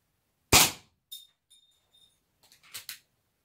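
A Diana LP8 Magnum Tactical air pistol fires one sharp, loud crack, followed by faint metallic pings and a couple of later clicks and knocks, close by with no talking.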